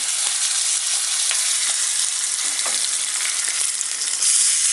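Asafoetida and curry leaves sizzle steadily in hot oil while tempering for green dhal, a dense, bright crackling hiss with small pops that holds loud and even throughout.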